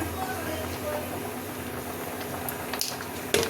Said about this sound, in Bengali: এখনও লাউটা সিদ্ধ হয়নি, লাউটা একটু সিদ্ধ হোক।